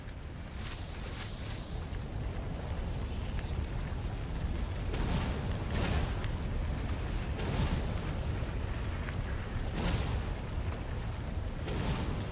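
Cannon traps fire in the video game Stories: The Path of Destinies, with a series of loud booming blasts about every one to two seconds over constant rumbling game noise.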